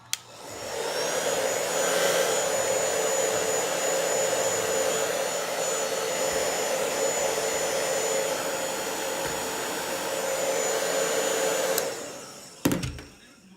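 A heat gun blows hot air onto a ProShot GoPro mount, a loud, steady roaring hiss running for about twelve seconds and then cutting off with a brief clatter.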